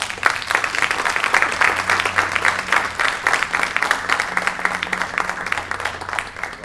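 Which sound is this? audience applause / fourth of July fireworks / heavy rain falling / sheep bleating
audience applause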